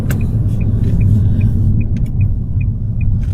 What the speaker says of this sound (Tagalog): Dito sa Vancouver mga lods, napakarami ng sasakyan.